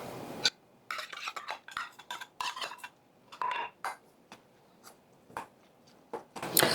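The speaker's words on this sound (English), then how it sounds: "Let's add the green chilies." Green chilies are stirred into a pot, with a spoon scraping and clattering against the metal in irregular bursts, close up with short pauses between strokes.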